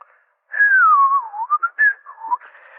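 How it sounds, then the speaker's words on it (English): A single person whistles a short, wavering tune, clear and close, with a few quick chirpy notes toward the end and no talking. "Butcher started to whistle."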